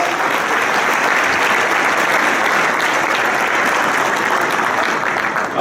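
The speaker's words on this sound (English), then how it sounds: "give them a big round of applause" A crowd at an annual valor awards ceremony gives healthcare professionals a big, loud round of applause, a thick, sustained roar of clapping lasting several seconds.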